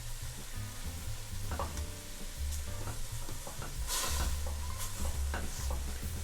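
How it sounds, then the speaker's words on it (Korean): Seaweed and beef stir-fry together in a pot over medium heat for seaweed soup, a soft continuous sizzle punctuated by gentle scraping strokes, fairly quiet and close. "고기와 함께 미역을 볶아주세요"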